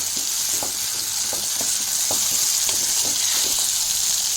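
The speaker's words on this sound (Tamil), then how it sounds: "இப்போ நல்லா ஹை ஃப்ளேம் வச்சு நல்லா வதக்குனீங்க அப்படின்னா நல்லா வதங்கிடும்." Shallots and dried red chillies sauté in hot oil over a high flame, making a loud, steady sizzle with scattered crackles and occasional scraping stirs, close up and without any talk.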